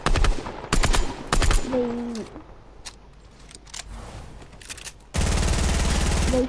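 Fortnite gunfire with infinite ammo, heard as rapid bursts of automatic shots in several volleys plus a long sustained barrage at the end, loud and close, with a short voice in between.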